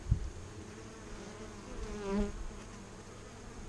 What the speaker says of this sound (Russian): Пчелка работает.